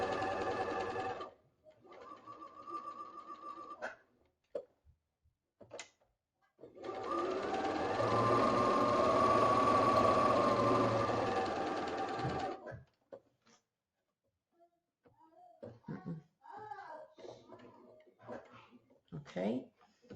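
A sewing machine running straight stitches on a medical mask, whirring in short bursts and then one long steady run of several seconds, with a person speaking between bursts and rustling fabric near the end.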